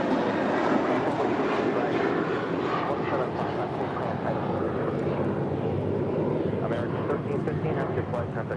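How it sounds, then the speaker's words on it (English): An American Airlines A321 jet departs LAX for Atlanta with a broad, steady engine roar heard from nearby, loud and continuous, while people talk over it. "This is American Airlines 1315 departing to Atlanta on an A321."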